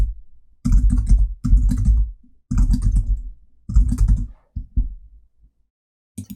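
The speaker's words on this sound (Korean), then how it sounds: "그대로 T도구 선택하시고 타이핑 할게요." Bursts of typing on a computer keyboard, close and crisp, in four or five quick runs of key clicks separated by short pauses, with a few isolated taps near the end.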